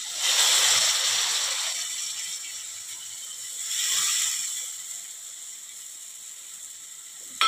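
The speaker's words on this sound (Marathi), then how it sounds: "आता यात आपण ही गवार घालूया." Cluster beans (guar) dropped into hot spiced oil give a bright sizzling hiss that surges at the start, eases, swells again midway and then settles into a steady quieter fry.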